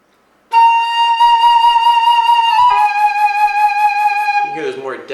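A loud, close flute note played with a relaxed, slower vibrato and fuller tone, held through a slight pitch change, then trailing into a few spoken words at the end.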